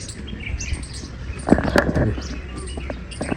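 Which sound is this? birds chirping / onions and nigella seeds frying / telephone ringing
birds chirping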